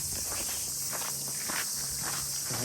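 Cicadas in Japan near Wakayama Castle on a hot day: a dense, steady high-pitched buzzing drone fills the outdoor air continuously, with faint footsteps and low background murmur beneath.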